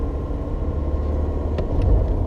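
A manual car's engine runs in third gear in traffic, a steady, close low rumble with a few faint clicks near the end.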